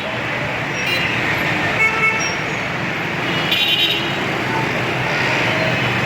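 A metro train arrives, rumbling and hissing through a busy station, with a steady roar of rail noise and a brief horn-like toot partway through.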